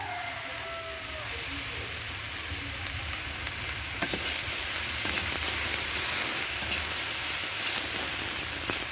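Dry chili powder frying in a pan with taro stems, a steady broadband sizzle with stirring scrapes throughout, close and moderately loud, with a few sharper clicks midway.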